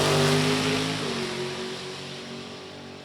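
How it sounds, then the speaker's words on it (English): A drag racing car at an NHRA Sportsnationals event, its engine roaring loudly at first and then fading as it runs away down the track, leaving a steady distant drone. "We'll wait till this car goes down the track."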